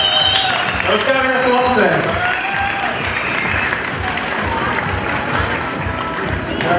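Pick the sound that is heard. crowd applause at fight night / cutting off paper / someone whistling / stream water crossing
crowd applause at fight night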